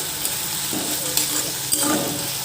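Ingredients for cheese Maggi sizzle and fry in a pan, a steady close hiss with light scraping stir strokes now and then, no talking.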